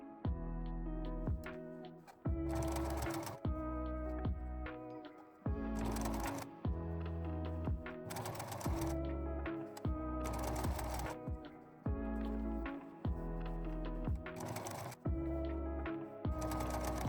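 A sewing machine stitching a skirt: repeated bursts of fast mechanical clatter, each lasting a second or two, alternating with a lower tonal hum, close up and loud across the whole stretch.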